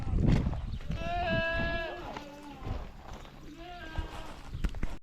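Goats bleat in a few wavering, harmonic calls as a 4-H spring kidding herd is driven into a tin shed, with hoof scuffs and farm noise around them and a person talking over part of it.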